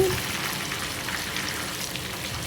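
Soya chunk pakodi (meal maker pakoda) fry in hot oil while being turned, giving a steady, close, even sizzle with no talking.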